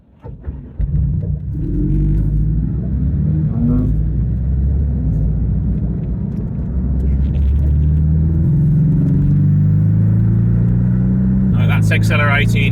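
A flat-four car fitted with a Miltek unsilenced exhaust accelerates in standard mode from around 55 mph, a loud, steady engine rumble rising gradually, with a brief burst of noise near the end.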